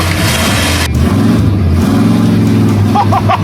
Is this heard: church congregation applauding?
no